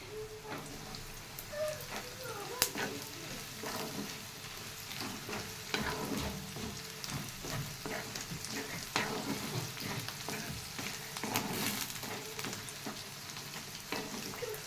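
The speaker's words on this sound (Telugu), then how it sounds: "అలాగే కరివేపాకు, చింతపండు ఒకసారి తిప్పుదామండి." Coriander seeds, curry leaves and tamarind sizzle and crackle as they are stir-fried in a pan for a bitter gourd chilli chutney. A steady frying hiss runs throughout, with sharp spoon scrapes and clinks scattered over it and no talking.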